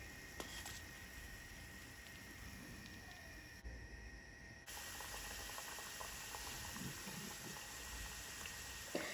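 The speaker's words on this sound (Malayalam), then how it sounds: "അപ്പോൾ ഫസ്റ്റ് ബാച്ച് മാറ്റി ഇനി ഞാൻ പെട്ടെന്ന് പെട്ടെന്ന് ചുട്ടെടുത്തിട്ട് കേട്ടോ ചുട്ടെടുത്തിട്ട് കാണിക്കാം" Chicken samosas frying in hot oil, a steady close bubbling and crackling sizzle that carries on throughout, briefly dipping then returning slightly stronger.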